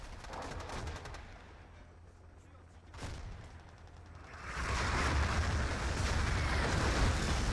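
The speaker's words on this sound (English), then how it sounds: "Santi drops the artillery." Artillery strikes in the Battlefield 2 video game, arriving as a heavy, sustained roar of explosions that swells and fills the second half after a sharp blast, with a commentator talking throughout.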